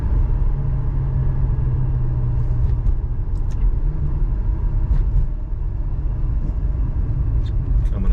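A Maserati coupe idles and warms up on a freezing cold morning near 26 degrees, a steady low rumble that holds evenly with faint clicks and small sounds over it.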